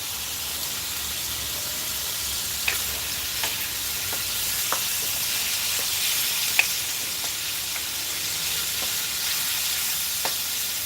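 Onions frying in a pan, with a steady close sizzle and scattered small pops and crackles continuing throughout.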